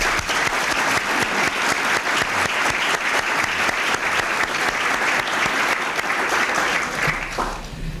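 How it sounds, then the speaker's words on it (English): A large crowd at the Harry Truman Centennial Luncheon applauds steadily and loudly for several seconds, dense clapping filling the room, tapering slightly at the very end. "I think they all deserve a round of applause."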